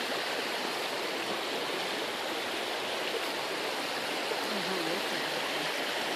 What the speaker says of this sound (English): all these spawning channels were man-made to help the salmon spawn on the upper Chilliwack River